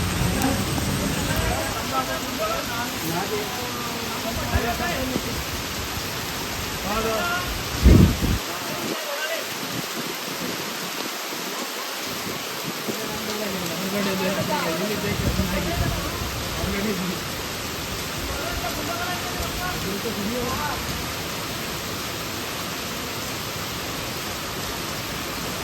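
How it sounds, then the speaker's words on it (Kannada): Heavy rain pours steadily during power line work on a pole, a dense, unbroken hiss throughout with a brief thump partway and faint voices in the background. "ಮಳೆ ಅಂತೂ ಕಂಟಿನ್ಯೂ ಹಿಡ್ತಾ ಇದೆ"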